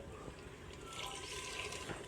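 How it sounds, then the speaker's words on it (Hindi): Water is poured into a pan of red chilli and turmeric powder for a potato and radish curry, heard as a continuous soft splashing, faint and steady, with no talk. "और साथ में इसके अंदर 1 से 2 खाने के चम्मच पानी डालूँगा"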